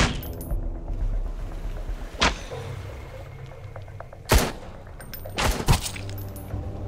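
Gunfire in the Sunkenland survival video game, with a few sharp, close shots spaced irregularly, one a quick double, over steady ambient game sound.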